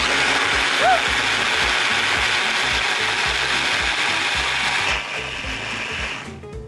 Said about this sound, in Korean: 재료를 넣고 갈아주도록 하겠습니다.